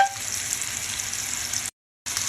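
Meat frying in garlic-scented butter in a pan, a bright steady hiss of sizzling fat that cuts out briefly near the end and then resumes, with no voices.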